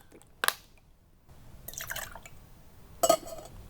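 ReaLime lime juice poured for a margarita: a few short liquid splashes and drips into a glass, close and fairly clear, separated by quiet gaps with a brief gurgling pour in the middle.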